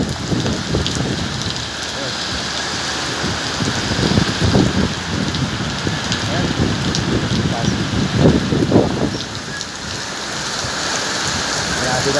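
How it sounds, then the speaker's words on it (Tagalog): Heavy rain pours steadily onto surfaces while strong wind gusts swell and fade, the downpour loud and continuous throughout with occasional louder bursts. "Grabe na po itong ulan na ito guys."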